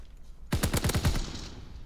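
An automatic weapon in Call of Duty WW2 fires a quick, close burst of about eight rapid shots that ends abruptly, leaving a short ringing tail.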